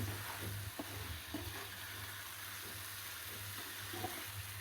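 Hilsa fish sautéing slowly in a pan, giving a steady close sizzle with soft, scattered stirring scrapes and a low constant hum underneath, no voices.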